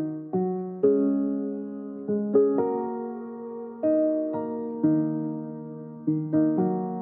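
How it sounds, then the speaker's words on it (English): Soft lofi-style grand piano chord progression, sustained chords struck in a loose syncopated rhythm with some landing just ahead of the beat, each decaying gently before the next, played alone. "The first place that I started was the grand piano."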